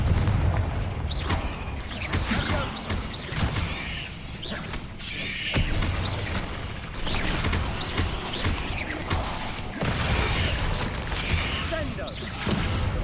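Repeated fiery Confringo spell blasts in Hogwarts Legacy during a spider fight, bursting over dense, continuous combat noise with clanking mechanisms and impacts, with a voice talking through the fight.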